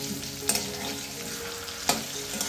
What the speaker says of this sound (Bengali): এখন মাংসের আলু ভাজছি, ফুলকপি আলু ভাজা হয়ে গেছে।